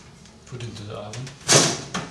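Oven door handled in a kitchen while cooking, a short solid thud of it opening or closing, with voices talking in the background.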